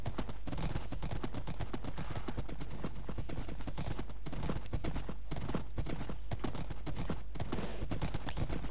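Steady clip-clop of horse hooves trotting close by, a continuous rhythmic clatter over a low rumble.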